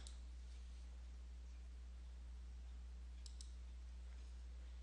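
Computer mouse clicks over a steady low hum: one sharp click at the start and a quick double click a few seconds later, faint and close.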